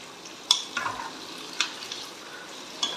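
Onions roast in a pan with a soft, steady frying hiss, broken by a few sharp clinks and scrapes of stirring, fairly quiet and close.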